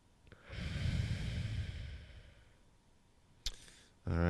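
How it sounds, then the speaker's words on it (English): A person breathes slowly during a calming yoga exercise: one long, close exhale lasts about a second and a half and fades, followed by a brief click and a short breath. "Do one more breath here."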